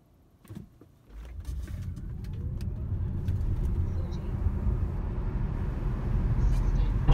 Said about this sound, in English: Just did a quick 0 to 60 Dragy run in the P85.